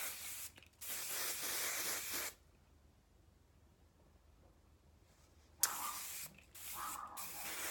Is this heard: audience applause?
no